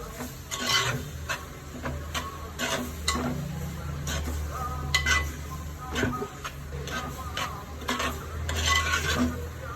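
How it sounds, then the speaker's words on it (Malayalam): Squid curry stirred in a pan, with a spoon scraping and clinking against the metal in a quick irregular rhythm, close and moderately loud with no talk. "നന്നായിട്ട് ഇളക്കി യോജിപ്പിക്കണം"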